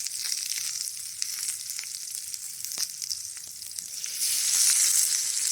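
An egg fries on a hot rock over an outdoor bushcraft fire, hissing in a continuous bright sizzle with scattered pops and crackles. The sizzle swells louder near the end, with no talking.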